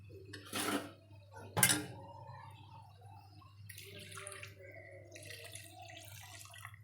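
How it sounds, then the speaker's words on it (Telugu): Soaking water from red lentils is poured into a cooking pot: two sharp metallic clanks first, then a steady, moderately close splashing pour that continues to the end, with no talking. "ఇంట్లో ముందుగా నానబెట్టుకున్న వాటర్ ఉంటాయి కదా ఆ వాటర్ని దీంట్లో పోసుకుందాం"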